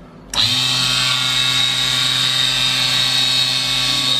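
A mini lathe motor spins up abruptly and settles into a loud, steady mechanical whine with a constant hum, running continuously without pause.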